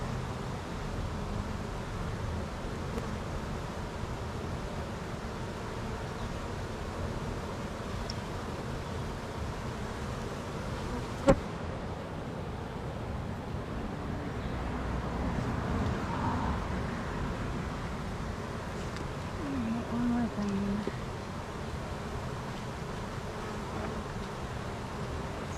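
Honey bees buzz around an open hive, a soft, steady swarm drone close by that continues throughout, with one faint click midway.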